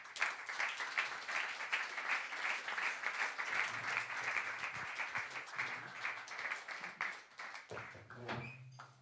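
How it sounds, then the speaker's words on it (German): A German stage event audience claps steadily for two performers called up on stage, a sustained wash of dense applause filling the room with no talk over it. "bitte ich mal mit einem Applaus auf die Bühne den Rolli und den Peter"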